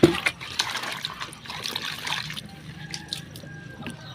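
Water running from a tap while a container is rinsed during training in Guimba, Nueva Ecija: an uneven splashing trickle, close and moderately loud, easing into lighter dribbles with a faint tone near the end.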